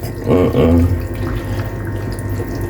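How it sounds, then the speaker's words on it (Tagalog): Hands are washed under a running tap before preparing raw fish kinilaw. Gushing water starts loud and splashy for about a second, then settles into a softer steady trickle, with a voice murmuring faintly. "Naghugas kong kamot"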